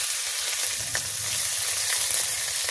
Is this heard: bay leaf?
yes